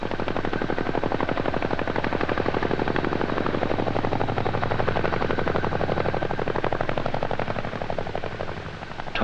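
A CH-47 Chinook helicopter airlifts a Chaparral M54 launching station in 1977, its twin rotors beating in a loud, steady, rapid chop that holds throughout and eases only slightly at the end.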